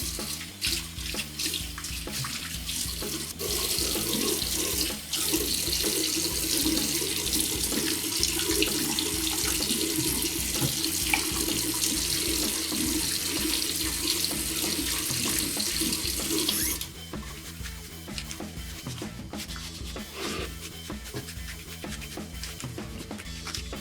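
Tap water runs steadily into a sink for a bathroom face wash, a continuous rushing splash that holds for most of the stretch and then drops to a lighter, thinner flow near the end, with no talking.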